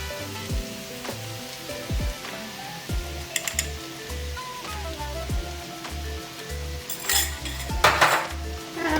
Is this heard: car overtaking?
no